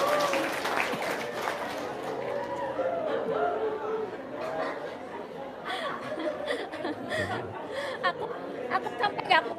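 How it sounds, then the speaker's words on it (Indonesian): An indoor seminar audience breaks into applause, the clapping spread through the room and mingled with chatter, chuckles and scattered laughter that rise toward the end. "Tepuk tangan dong."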